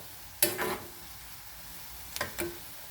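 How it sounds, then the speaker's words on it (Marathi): Onion bhaji frying in an iron kadhai, a quiet low sizzle with two brief bursts of scraping and clattering as the fritters are stirred or lifted. "ह्याच्यातच तळायचं चाललं आहे हे आहेत कांदा भजी आपले"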